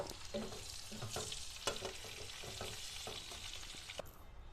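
Pointed gourd pieces fry quietly in oil with a soft, continuous sizzle, broken by light stirring scrapes and taps, before the sound drops off at the end.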